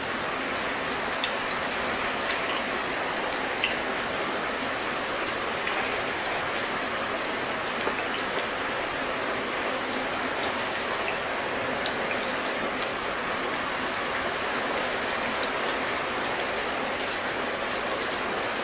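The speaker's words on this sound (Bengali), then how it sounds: "তেল গরম দিয়েছি একটা পাত্রে, এখন ভাজবো।" Chicken pakora in flour batter frying in a pan of hot oil, a steady, dense crackling hiss that runs without pause at an even level, with no voices.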